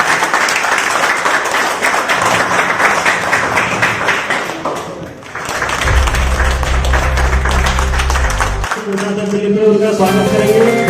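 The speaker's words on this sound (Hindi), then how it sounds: "एक बार जोरदार तालियों के साथ।" A crowd at a Delhi political gathering in Dwarka gives loud, sustained applause for several seconds. It dips briefly, then resumes beneath a loud, low sustained tone, with the clapping continuing toward the end.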